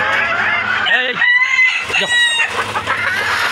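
Chickens cluck nearby in short, bright bursts, one call rising sharply above a low farmyard murmur.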